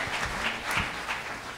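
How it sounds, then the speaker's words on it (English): Audience applause at a presentation on smart meters, a soft, fairly distant patter of clapping from a seated crowd that holds steady throughout. "Yes, they deserve a round of applause,"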